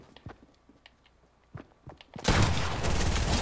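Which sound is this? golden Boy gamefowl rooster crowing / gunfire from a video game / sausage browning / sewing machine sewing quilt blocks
gunfire from a video game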